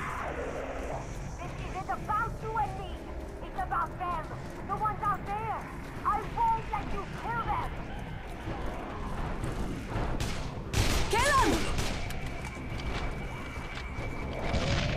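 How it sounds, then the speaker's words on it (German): A grenade thrown at Harlow in the video game Dead Island Riptide goes off as one short, loud broadband blast partway through, set among game sounds and voices. "Schmeißen wir erstmal eine Granate nach ihr."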